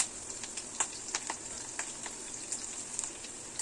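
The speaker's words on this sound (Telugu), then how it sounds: "ఇవి చక్కగా ఫ్రై అయ్యే వరకు మనం 2 నిమిషాలు ఫ్రై చేసుకొని" Chopped onion, green chillies and curry leaves frying in hot oil, a soft steady sizzle with scattered crackles and pops, faint and close, no voices.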